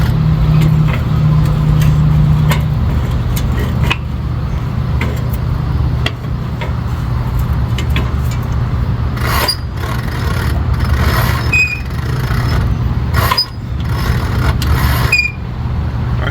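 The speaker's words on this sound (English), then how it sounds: "I'm going to turn the engine over so you can see what the valves are doing" A 1974 International Cub tractor engine turns over with a steady, loud low mechanical hum and churn, dotted with faint clicks and a few sharp metallic ticks near the end.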